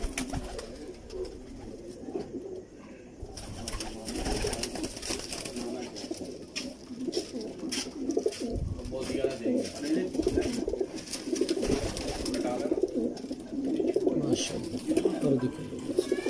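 Old pigeons cooing in a loft: repeated low soft coos at close range, with rustling, occasional wing movement and background voices.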